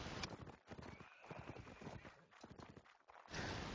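Horse hooves clip-clop in a real-time strategy game match as mounted lancers charge in, a quick, busy patter of hoofbeats mixed with battle noise, filling the short stretch at a moderate level.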